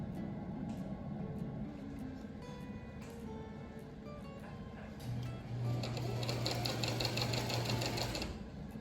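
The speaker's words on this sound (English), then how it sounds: "So let's go on ahead and sew right at this 1/4 of an inch." Sewing machine stitching a continuous placket at a 2.5 stitch length, running in short bursts and then in one steady, fast whirring run near the end, with no talk.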